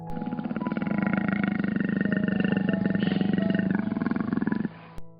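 A leopard gives a single long, rasping roar made of rapid pulsing grunts, loud and close, sustained for several seconds before it cuts off sharply.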